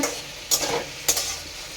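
Food fries in a pan with a soft steady sizzle, broken by two sharp stir-and-scrape bursts as it is tossed, close and without talk.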